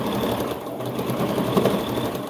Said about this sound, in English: and then I'm going to back stitch, okay?